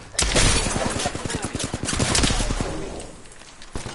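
Rapid automatic gunfire in the Apex Legends game, a loud burst of closely spaced shots and then a second run of fire that fades, with a sharp final shot.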